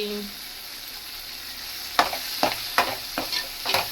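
Ridge gourd fries in a pan, a soft sizzle underneath broken by several sharp stirring scrapes of a spatula in a loose rhythm, fairly close and with no talk.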